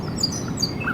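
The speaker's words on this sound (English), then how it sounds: "as different species of birds join in the chorus, their melodies blending harmoniously together." A chorus of several bird species singing together, with bright overlapping chirps and tweets close by over a soft, steady outdoor background.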